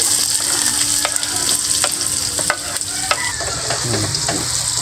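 Onion frying in hot cooking oil with steady sizzling and repeated scraping stirs, close and continuous with no talk.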